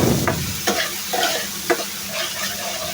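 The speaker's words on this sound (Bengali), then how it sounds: "মশলাটা প্রায় ভাজা ভাজা হয়ে গেছে।" Spice paste sizzles loudly in a pan while being stirred, with several distinct scraping strokes over a steady frying hiss; no one speaks.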